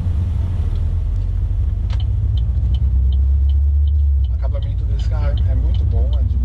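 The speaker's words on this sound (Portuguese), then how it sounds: "A gente vai pegar aqui um pedacinho da BR-116, mas dá pra ver um pouco do desempenho do carro na estrada." Chevrolet Sonic LTZ automatic (2013) cruising on highway BR-116, with a steady low road and engine rumble throughout and a person talking over it inside the car.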